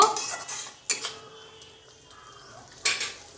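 A metal spoon scrapes and clinks against a pan while spices fry for shukto, a Bengali vegetable dish, with two sharp clanks over a soft background sizzle, close and brief.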